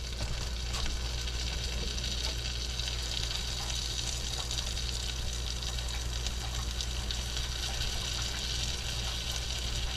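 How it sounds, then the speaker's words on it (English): A kitchen tap runs while hands are washed, a constant close rush of water with faint splashing, unbroken and even in level throughout. "Wash my hands real quick."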